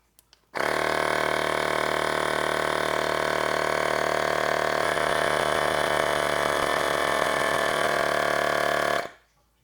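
A Lace Fit portable electric pump inflating a Tesla tire runs as a loud, steady mechanical drone that starts abruptly, holds for about eight seconds and then cuts off, with no talking.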